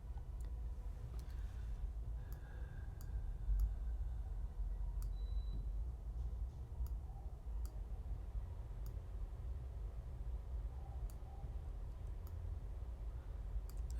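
Sparse, faint computer mouse clicks while working in Adobe Illustrator, a dozen or so crisp ticks spaced irregularly over a steady low hum of room noise.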